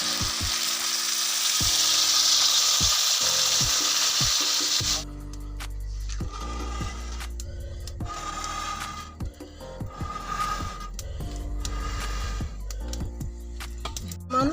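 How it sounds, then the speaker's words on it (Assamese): A strong sizzle of fried fish in a pan fills the first seconds, then cuts off sharply as water hits the pan, leaving softer bubbling, scraping and clinks of a utensil. "এতিয়া মই পানী ঢালিছোঁ"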